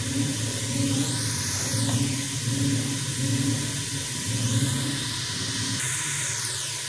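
Onions frying in a pan until brown, a steady sizzling hiss with some bubbling, continuous and moderately loud against a low background hum.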